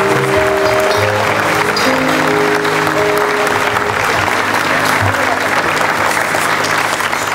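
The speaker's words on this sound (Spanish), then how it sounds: "todo el aplauso que podamos darle a nosotros" Sustained audience applause at a midday news event honoring a vallenato festival foundation, dense and loud throughout with a steady crowd wash and a faint tonal musical layer underneath.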